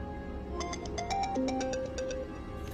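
A telephone plays a melodic electronic ringtone, a short sequence of tones in a steady pattern at moderate volume over a continuous background bed.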